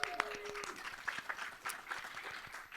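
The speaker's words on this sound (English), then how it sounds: "Can I get a round of applause?" Audience applause at a live podcast taping at a fan convention: a faint, steady patter of clapping from a crowd, with sharper individual claps near the start and some voices mixed in.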